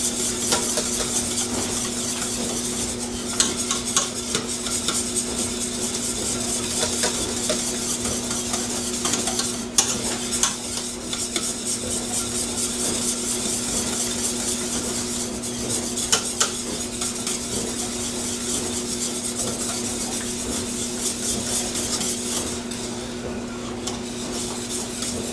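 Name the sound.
stirring cream gravy in a pan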